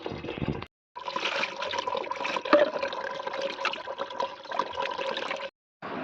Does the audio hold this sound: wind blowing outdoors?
no